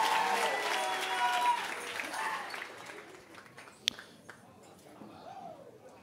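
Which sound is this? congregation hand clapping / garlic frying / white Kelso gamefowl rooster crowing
congregation hand clapping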